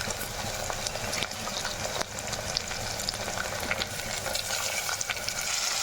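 Washed mutton frying in a pan for gongura mutton, a steady loud sizzle with crackling and occasional stirring scrapes, close and continuous.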